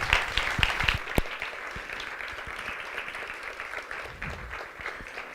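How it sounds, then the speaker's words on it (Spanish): A seated audience applauds after a comics masterclass, with steady, moderately loud clapping that starts with a few sharper claps and then settles into an even patter that slowly fades. "Un aplauso, por favor."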